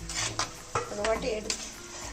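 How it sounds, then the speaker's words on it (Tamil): A spoon scrapes and clinks against a pan while stirring mushroom curry, a few quick strokes close by with faint sizzling underneath. "எடுத்து கிளறி விட்டுக்கோங்க"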